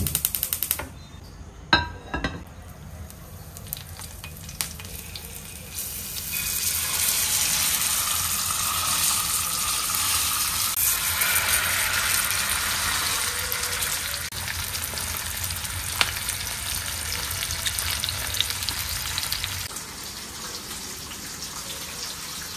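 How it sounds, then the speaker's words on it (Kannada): Bangude mackerel fish frying at home, a steady soft sizzle and crackle that starts after a few sharp knocks and continues evenly for most of the stretch at moderate volume. "ಫಿಶ್ ಫ್ರೈ ಅದು ನಿನ್ನೊಂದು ಬಂಗುಡೆ ಫ್ರೈ ಮಲ್ತೊಂದಿಲ್ಲ ಗೈಸ್."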